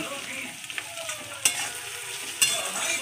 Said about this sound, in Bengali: তো এটা এখন ভালো করে সুন্দর করে কষাবো